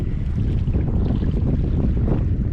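Wind gusting across a microphone while float fishing for squid on the water, a continuous low roaring buffet with uneven swells and no voices.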